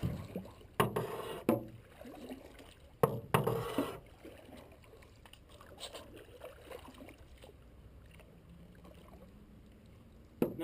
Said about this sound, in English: So that means we're going to have to be paddling a little bit.